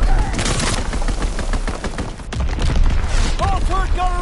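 Aircraft strafing run in a console war video game, a rapid rattling burst of gunfire at steady loudness amid battle noise, with a brief voice near the end.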